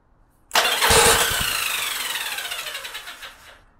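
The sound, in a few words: Yamaha Virago motorcycle engine cranking on starter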